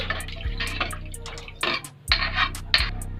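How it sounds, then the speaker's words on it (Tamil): Water is poured into a pot for noodle soup in a series of splashing, gurgling bursts, close and fairly quiet, with no talking. "இப்போ நம்ம தண்ணி ஊற்றிக்கலாம்."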